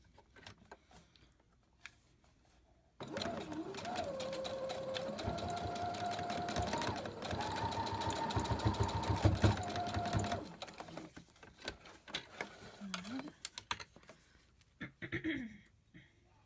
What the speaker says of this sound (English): you just want to sew down the middle.